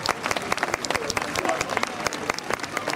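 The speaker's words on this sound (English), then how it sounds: "Just give them a round of applause, that'll be great." Audience applause at a British Army Royal Engineers bridge-building demonstration, a steady wash of many hands clapping with sharp individual claps standing out, fairly close, with some voices mixed in.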